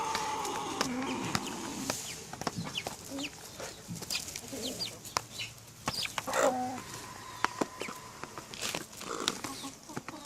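Chickens and roosters cluck and call in a farmyard flock, a busy overlapping stream of sharp clucks and squawks near and far, with occasional wing flaps.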